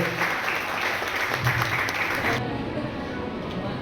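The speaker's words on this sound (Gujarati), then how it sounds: "એકવાર જોરદાર તાળીઓ સાથે." An audience at a 40th birthday celebration applauds loudly as a guest is welcomed onto the stage: dense, continuous clapping from a crowd that holds strong and then eases slightly toward the end.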